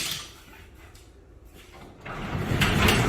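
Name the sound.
garage door being moved by hand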